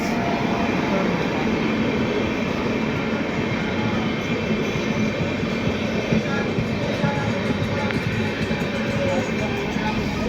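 Netaji Express passenger train on the Howrah–Kalka route: a loud continuous rumble of rolling rail cars with steady wheel noise close by, faint voices mixed in beneath.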